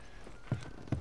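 Two hollow hoof clops from a horse in the video game The Last of Us, spaced about half a second apart over a low, steady background hum.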